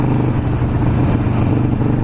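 A Harley Sportster fitted with Vance and Hines Grenades exhaust runs steadily, a loud continuous low engine rumble with no breaks and no talk over it.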